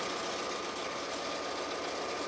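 A free-arm embroidery machine stitches a shirt with a steady, rapid, continuous mechanical whir and needle chatter, close and fairly loud, with no talk over it.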